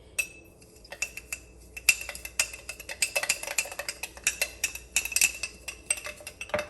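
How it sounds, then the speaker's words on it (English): Spoon stirring chia seeds and honey in a bowl, producing close, quiet repeated scraping clinks in an uneven rhythm, with no voices. "I have 2 teaspoons of chia seed here, and I'm going to add some honey to it so I can just mix it out"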